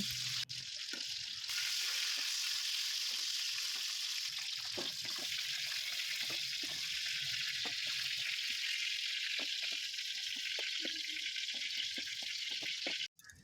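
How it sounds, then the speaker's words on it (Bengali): Lata fish fry in hot mustard oil with a constant, close sizzle, scattered pops and light clatter, lasting over ten seconds before cutting off abruptly. "সর্ষের তেল গরম হয়ে গেলে ল্যাটা মাছগুলো আমরা ভালো করে এপিট ওপিট করে ভেজে একটা থালায় তুলে নেব।"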